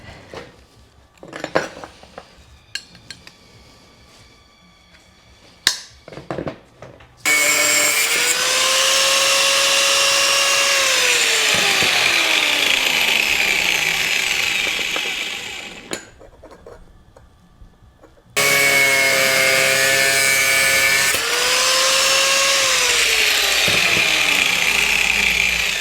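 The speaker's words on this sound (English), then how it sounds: "just got the flap disc on to give them a quick clean up" An angle grinder with a flap disc cleans up fabricated steel brackets for a Suzuki VL250 bobber. Two loud sustained grinding runs with falling and rising pitch follow a stretch of quiet metallic handling clinks.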